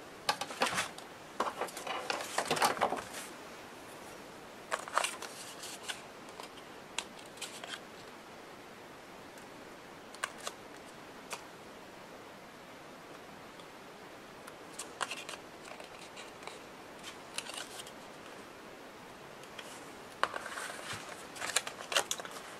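Scissors snip through paper while trimming a double envelope mini album, a crafting job heard as scattered crisp cutting and rustling sounds, close and fairly quiet, in clusters with pauses between them and no talking.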